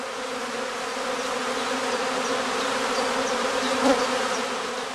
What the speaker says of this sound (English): They collect to form a swarm cluster of increasing size.